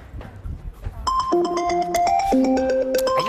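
An incoming call on a mobile phone sets off a melodic electronic ringtone. It begins about a second in and keeps cycling through bright, loud stepped tones over faint background rumble.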